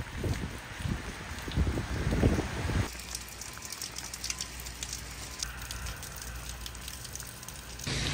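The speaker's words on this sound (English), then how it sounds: "it's pouring rain" Pouring rain heard from inside a minivan parked in town, a steady dense patter that shifts in tone partway through as the surroundings change.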